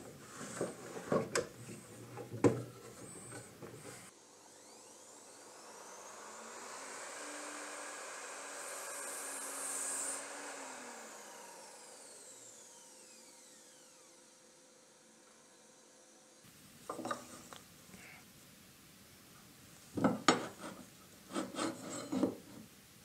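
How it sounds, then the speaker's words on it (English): A miter saw makes a single 45-degree miter cut, its motor whining up, holding a loud rasping buzz for about twelve seconds, then winding down, with brief handling noises before and after. "So let's make a 45-degree mitre cut just to check out if"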